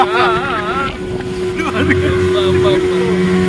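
A speedboat ride with a loud motor drone and rushing wind, while a voice makes wavering, rising and falling sounds over the engine noise, near and continuous.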